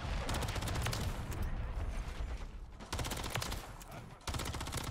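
Dense, loud automatic gunfire from Modern Warfare 3 multiplayer fills the span, with rapid repeated bursts, a short lull near the middle and then renewed firing, all close and continuous.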